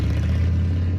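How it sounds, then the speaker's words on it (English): A popular American motorcycle engine running at a low, steady idle, a close rumbling throb with a slight clatter and no voices. "This is the sound of a popular American motorcycle."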